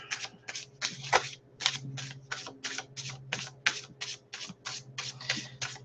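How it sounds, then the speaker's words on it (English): A tarot card deck is shuffled in a steady run of crisp, rhythmic riffles and snaps. The sound is close but quiet, with no talk. "So this deck is shuffling really well"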